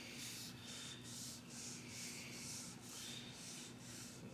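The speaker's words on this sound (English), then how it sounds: "Wipe each headlight in a circular scrubbing motion." A car headlight is scrubbed with an oxidization removing pad in circular motions, making a faint, rhythmic rubbing hiss that repeats about twice per second, close and alone.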